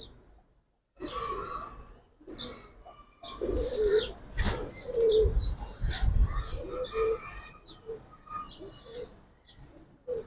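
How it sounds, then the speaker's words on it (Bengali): Female pigeons of the giribaz and coloring kobutor breeds coo in soft repeated bursts close by, with faint chirps and wing flutters in the background. "দুইটা কবুতরই খুবই সুন্দর কবুতর ভাই"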